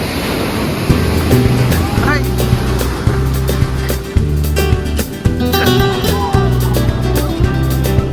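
Strong sea waves surging onto the beach at Puri, a loud, continuous roaring wash of surf with wind buffeting, heard beneath voices and music.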